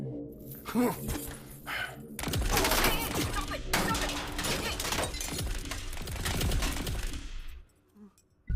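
Gunfire sound effect from the Hindi film Kalki: a burst of sharp, loud shattering blasts and rapid impacts lasting several seconds, preceded by a few softer thuds and ending abruptly.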